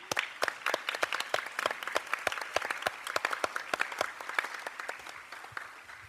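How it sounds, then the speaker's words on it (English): An audience at a Belton ISD school board meeting applauds the Belton High School Magic Bells handbell group, with crisp individual claps from a modest crowd in a quick, uneven patter that thins slightly toward the end. "Let's give them another round of applause, if you will."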